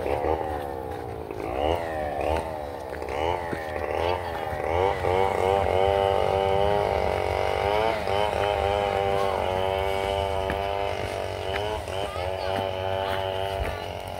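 A human voice imitates a motorcycle engine with buzzing, revving vocal sounds that rise and fall in repeated pulses, close and fairly loud, in an outdoor setting during a mountain, river and cave outing.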